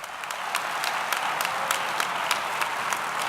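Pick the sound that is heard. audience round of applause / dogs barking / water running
audience round of applause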